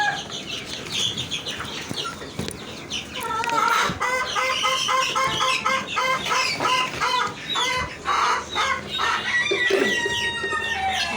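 Hens in a poultry coop where eggs are being laid, clucking and cackling repeatedly at close range, with a rooster-like call among them and no speech.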